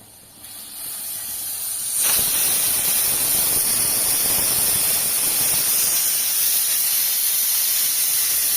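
A pressure cooker on a gas stove hisses steam while cooking khichuri with drumsticks: a quieter rising hiss swells abruptly into a loud, steady, continuous jet of steam that keeps going without a break.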